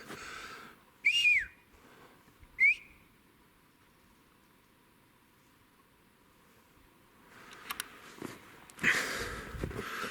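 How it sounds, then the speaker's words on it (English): Two short rising whistles, attributed to birds, sound faintly at close range one after another in a quiet outdoor setting, followed later by rustling and brushing noises. "No camera, just whistles. It was birds, I think."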